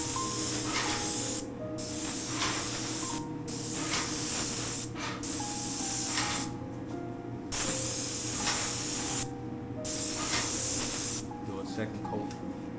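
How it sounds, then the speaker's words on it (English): Scuff-X paint sprayed onto interior wooden woodwork in a high-quality home, heard as repeated loud hissing bursts of a few seconds each, separated by brief pauses. "I went ahead and sprayed this section."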